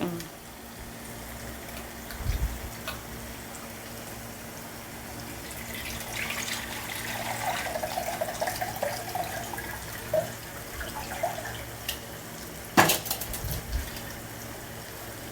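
Fish fry in a pan for a Telangana-style fish stew, giving a steady soft sizzle and bubbling with an occasional utensil clink. A voice speaks over it.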